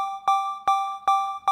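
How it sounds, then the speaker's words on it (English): A synth patch of two triangle waves a perfect fifth apart, with a slight widening effect, plays steady sustained tones retriggered in an even repeating rhythm, each note starting with a soft click. "So I made this very basic massive patch using 2 triangle waves"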